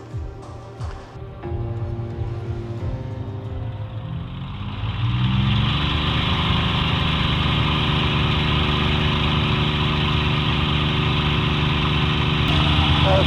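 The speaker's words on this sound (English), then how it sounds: "Soon we'll hear that Merlin engine really roar into life" A Rolls-Royce Merlin engine on a WW2 RAF Spitfire runs up, a low rumble swelling to a loud, steady roar that holds close and unbroken.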